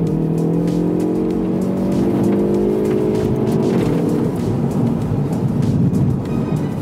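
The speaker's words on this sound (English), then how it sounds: "if we now accelerate, you can feel the engine being fastest, gear shifts being fast" A Hyundai i30 N engine revs up hard under full acceleration, its loud droning tone climbing steadily and dropping back at quick gear shifts, heard from inside the car with steady road roar beneath and no voices.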